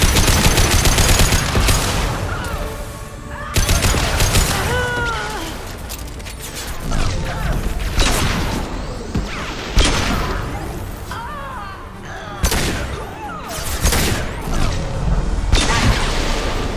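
Gunfire in Mass Effect 2, a loud sci-fi firefight with repeated sharp shots and bursts, booms and clanking impacts spread across the whole stretch, with brief game voices mixed in.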